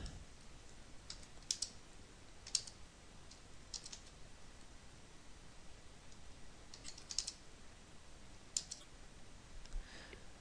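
Sparse, quiet keystrokes on a computer keyboard at a router command-line prompt, a few scattered clicks and short bursts over a steady low hiss, no voices.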